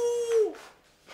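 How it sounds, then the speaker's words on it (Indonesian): A single drawn-out, dog-like howl voiced by a person in an Indonesian TV sitcom; it holds one steady pitch, then slides down and breaks off, close and fairly loud, with no other sounds around it. "Kagak, lagi gonggong."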